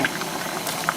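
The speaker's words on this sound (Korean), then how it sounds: "바글바글 끓거든요." Doenjang soup with dried radish greens and barley shrimp bubbling at a rolling boil in a pot, close soft popping and gurgling for a brief moment.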